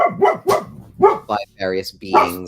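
A dog barks several times indoors, sharp close yaps mixed with a person talking over them.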